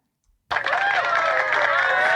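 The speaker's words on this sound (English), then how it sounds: "Let's get another round of applause." Dense, steady applause from a live audience that breaks out suddenly after a brief silence and keeps going loudly and evenly to the end.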